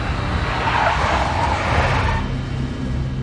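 A big black Mercedes skids in the Max Payne mobile video game, a brief tire squeal over a loud engine rumble that fades slightly toward the end.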